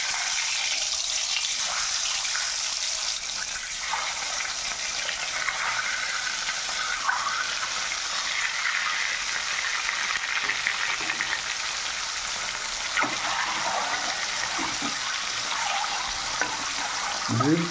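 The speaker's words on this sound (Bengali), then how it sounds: "তেল গরম হয়ে গেছে, এখন ডিমগুলোকে ফ্রাই করে নেব।" Eggs rubbed with turmeric and salt fry in hot oil with a steady, dense sizzle that runs throughout, loud and close, and no one talks over it.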